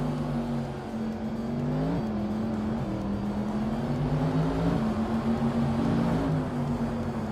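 Video game race with cars running nose-to-nose, a steady droning engine whine that holds on continuously with small pitch shifts as gears change, no voices.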